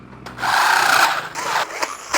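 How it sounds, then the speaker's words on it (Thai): A metal drill bores a hole through steel in a fabrication workshop, a steady high whine grinding for about two seconds with brief dips as the bit bites, close and loud with no talk. "ขั้นตอนต่อไปเราก็จะมาเจาะรูตรงนี้ นะครับ โดยการใช้ตัวเจาะเหล็กนะครับเจาะ"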